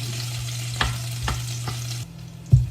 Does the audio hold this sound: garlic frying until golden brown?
yes